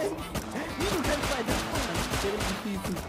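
Rapid bursts of gunfire ring out in a video game, close and repeated in quick clusters, with a player's voice talking over the shots.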